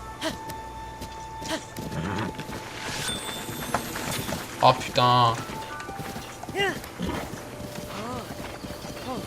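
Horse hooves clip-clop in Zelda Breath of the Wild, a steady trotting patter running under game music and effects, with a man briefly exclaiming over it.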